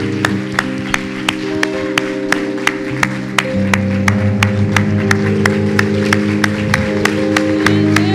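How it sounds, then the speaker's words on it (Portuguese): A church congregation at a bilingual service claps along, with sharp, evenly spaced claps standing out over a sustained organ or keyboard chord and a low murmur of voices in the room. "Let's give him a big applause."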